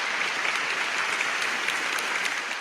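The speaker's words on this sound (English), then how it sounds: "applause." Loud, close applause on a podcast set: a thick, continuous wash of clapping hands at steady volume, alone with no talking over it.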